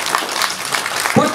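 A crowd at a film song-release event gives a short burst of applause for the writer. Speech overlaps the clapping near the end.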